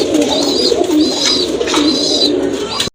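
Fancy pigeons with yellow eyes coo in a loft, a close, repeated series of soft throaty calls in a loose rhythm, with no one speaking.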